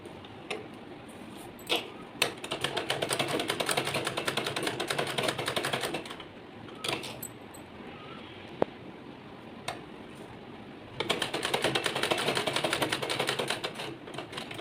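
A sewing machine stitches along the edge of buckram in steady rapid runs of clicking needle strokes, pausing briefly between runs and starting again, close and alone without talk.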